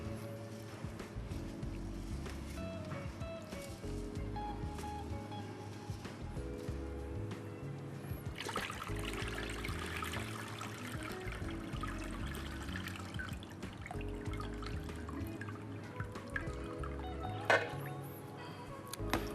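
Water swirls and sloshes over sushi rice as it is rinsed by hand, a quiet trickling and gentle churning that runs under steady background music.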